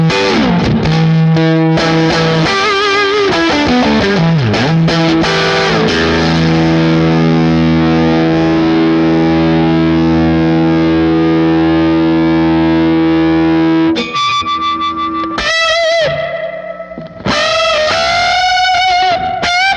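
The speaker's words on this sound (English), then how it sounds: "I'd love to hear you play one of my guitars." Electric guitar run through a pedalboard of effects, loud and heavily distorted, with long sustained chords and wavering modulated notes, then a brief break before bright, chorus-like lead phrases ring out alone.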